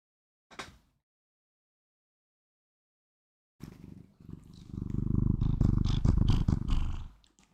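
A cat purrs loudly and steadily up close, a low continuous rumble, after a brief sound and a few seconds of silence.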